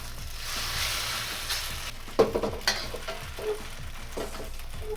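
Chow fun noodles frying and charring in a hot pan for a vegetarian beef chow fun, a steady close sizzle with a few louder stirring and tossing bursts partway through.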